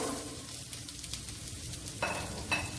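Green beans and potatoes fry in oil with hing for a Konkani beans upkari, a soft steady sizzle with faint stirring taps, nearby and fairly quiet, no voices.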